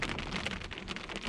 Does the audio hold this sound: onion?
no